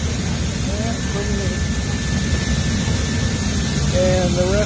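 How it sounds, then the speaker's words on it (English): Inside the cargo bay of a C-17 military transport aircraft in flight, a loud, constant roar of engines and airflow with a steady hum and a few faint whistling tones on top. "I'm in the cargo bay of the C-17, which is a pretty big aircraft for hauling cargo and passengers."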